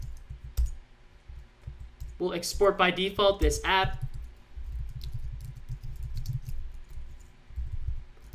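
Computer keyboard typing while coding a React and Redux web app: soft, quick clicks run before and after a voice and continue faintly beneath his speech.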